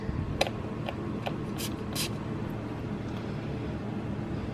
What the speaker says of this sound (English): here is the fragrance mist, and let's spray it